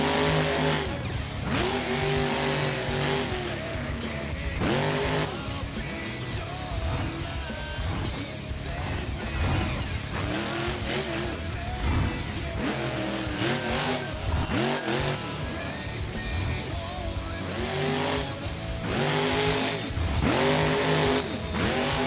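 A monster truck engine in the BeamNG.drive game roars and revs continuously through celebratory donuts in an arena, loud and close with repeated surges of throttle and tire squeal.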